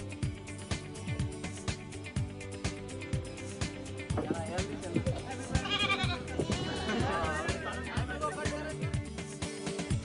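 Goats and sheep awaiting export on a cargo flight bleat repeatedly, several animals calling close by over a steady background, with voices chattering in the later part.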